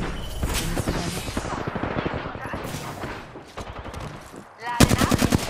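Heavy video game gunfire rattles in dense automatic bursts throughout, loud and close, ending in a sharper rapid volley, with a voice speaking underneath.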